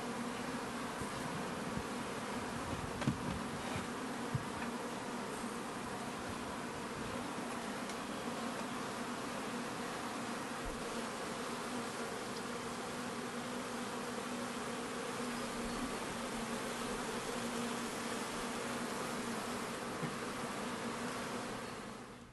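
Bees hovering around hives and flowering plants in a yard during a pesticide poisoning incident, a steady, close insect buzz that runs unbroken for the whole stretch with no voices.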